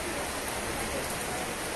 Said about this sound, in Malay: Hujan bertambah lebat.